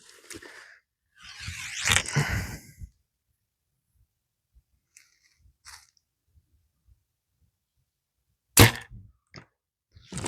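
Archery practice: a sharp crack of an arrow striking the target rings out, followed by softer rustles and faint ticks, then a second crisp crack near the end, close and clear with no speech.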